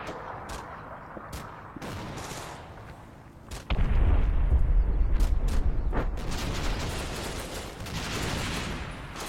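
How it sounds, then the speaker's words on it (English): A flak gun in a video game fires repeated heavy bursts that boom at a distance, with a louder rumbling barrage joining partway through and continuing under sharp intermittent cracks. "that flak gun's shooting at something"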